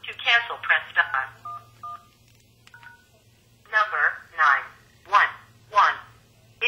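Short telephone keypad tones dial a number, a few brief beeps set between prompts from an automated voice messaging system that speaks before and after them.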